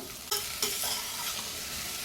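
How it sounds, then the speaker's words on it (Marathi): Pumpkin pieces sauté in hot ghee in a pan, sizzling steadily up close, with a couple of sharp stirring scrapes near the start. "तुपात आपण भोपळ्याच्या फोडी थोड्या परतून घेणार आहोत"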